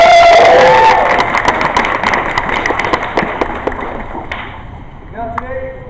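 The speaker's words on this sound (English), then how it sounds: "You all deserve a giant round of applause." Crowd cheering and applause at a street protest march against Monsanto, loud at first and fading over several seconds, with scattered claps and shouts.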